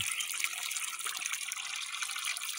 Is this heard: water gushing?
yes